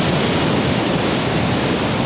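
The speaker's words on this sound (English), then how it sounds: "So you can hear the crashing of the waves." Waves crash onto a stormy coastline in a dense, loud, continuous roar of surf mixed with wind buffeting, with no voices.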